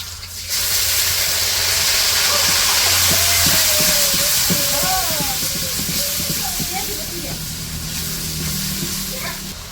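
A spice paste of onion, ginger and garlic hits cooking duck meat in a village-style kitchen, setting off a loud burst of hissing sizzle that settles into steady frying while a person talks over it.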